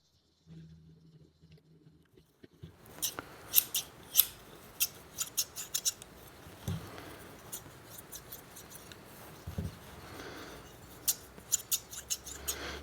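Shears with the pivot screw set a little too tight snip in a string of crisp metallic cuts, quiet and close, starting after a soft low hum and then coming in quick bursts.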